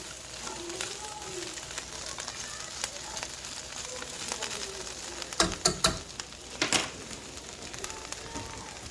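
Food sizzles steadily in a pan, a soft continuous frying hiss with a few louder clatters of utensils near the end.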